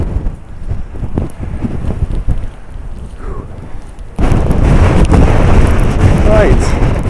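Strong wind during a sandstorm at a basin buffets the microphone with a constant rushing roar that jumps abruptly to a much louder, harsher blast about halfway through.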